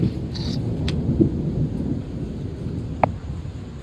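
A low, continuous rumble of distant thunder rolls on with steady rain hiss, broken by a couple of sharp faint clicks.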